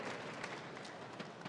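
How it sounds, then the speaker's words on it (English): Audience at a Hearthstone esports championship quarterfinal applauding for player Kolento, a brief burst of dense clapping and cheering, moderately faint and steady throughout. "I believe that this is everyone's cheering for you"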